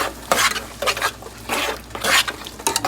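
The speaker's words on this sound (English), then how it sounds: "Let that saute here for a little bit." Ingredients sautéing in a pan while cooking Spanish food, a close sizzle broken by bursts of spoon or spatula stirring and scraping against the pan, a few seconds long with no voices.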